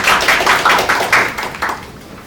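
Applause at a parliamentary roundtable meeting, a run of sharp, uneven bursts of clapping from a small audience, fairly close and loud, tapering off toward the end.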